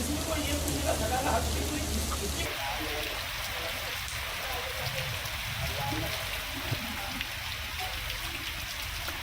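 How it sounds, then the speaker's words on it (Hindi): Steady, dense rain pours in Gwalior during heavy monsoon weather, a continuous hiss of drops on surfaces that stays even throughout, with a voice speaking over the early part. "लगातार बारिश हो रही है।"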